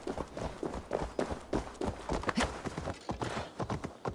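A horse gallops in Assassin's Creed Valhalla, during the Siege of Paris DLC, with steady, close clip-clop hoofbeats in a quick running rhythm, alone with no talk.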